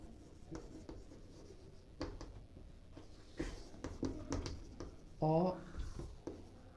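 Marker or chalk writing on a board during a class 11 complex numbers lesson, with short scratchy strokes in bursts under a teacher's steady talking.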